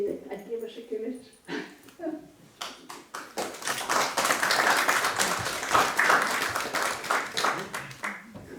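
An audience at a Slovenian book talk breaks into applause, a dense run of clapping that swells and holds for several seconds after a stretch of speech.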